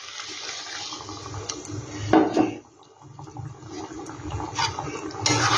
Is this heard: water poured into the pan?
yes